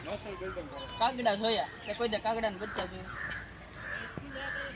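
Several crows caw in harsh, repeated bursts nearby at a zoo in Surat, overlapping with people talking, then a quieter stretch of distant calls.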